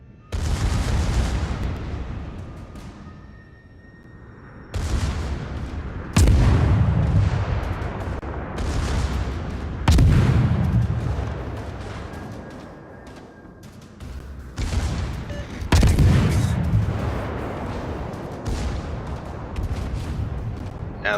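Warship secondary battery gunfire in a naval video game, a series of five or six heavy booming salvos spaced a few seconds apart, each with a rolling rumble.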